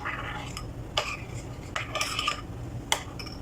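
Metal utensil clinks and scrapes against a bowl while chicken marinade with lemon juice and coloring powder is mixed, a few sharp taps between softer stirring scrapes, close and fairly quiet, no talking.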